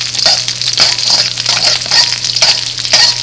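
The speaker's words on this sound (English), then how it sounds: "I've added the sugar, and I got to make sure this doesn't burn, but I want it to melt and get a little bit of caramelized" Sugar melts and caramelizes in a hot pan with beef nearby, giving a steady close crackling sizzle with rhythmic stirring scrapes and a low constant hum underneath.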